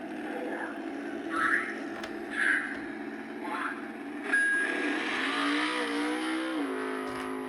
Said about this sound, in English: And the sound of the race car on the back.